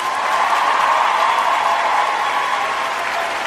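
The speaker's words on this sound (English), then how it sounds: "Round of applause, everyone." An audience gives a steady round of applause, a continuous wash of many clapping hands at even loudness throughout, with no voices over it.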